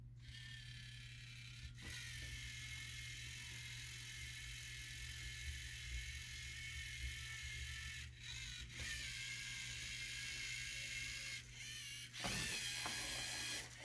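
A LEGO robot's medium motor raises an arm mechanism, giving a steady close whirring drone over a low hum, with a few brief clicks and shifts in pitch as the mechanism moves.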